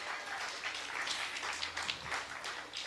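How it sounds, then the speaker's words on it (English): Applause rolls through the crowd at a political party's public meeting for a by-election campaign, a fairly quiet, even wash of clapping that is heard from a distance. "Let's give a round of applause to Lorenzo."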